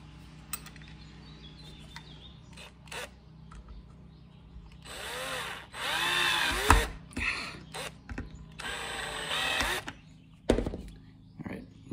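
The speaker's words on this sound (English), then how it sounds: "Got all 6 screws tightened down." Power drill driving flathead screws into a support for a dinghy cover, several whirring bursts of a few seconds each, close by, with brief clunks between them and faint birdsong in the background.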